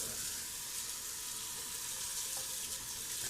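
Tap water runs steadily over an iron skillet in a sink during a quick rinse, a continuous close splashing hiss with no voices.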